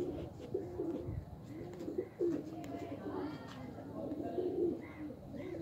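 Teddy and Golden pigeons cooing, a series of low, soft, throaty coos repeating close by, with people's voices mixed in.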